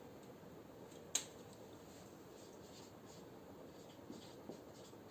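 Pen or chalk writing a chemical formula, quiet strokes with one sharp tap near the start and faint scratching afterwards, no voices.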